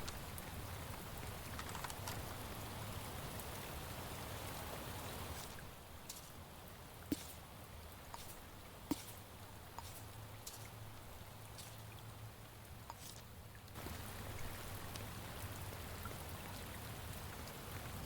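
Steady rain falls in the detective video game Shadows of Doubt, a continuous hiss of drops on surfaces that briefly thins, with a few crisp clicks, before returning at full density.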